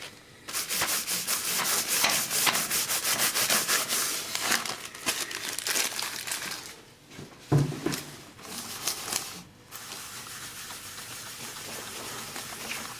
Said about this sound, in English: If you want a bit light you have to really rub it lightly. just like you're polishing it.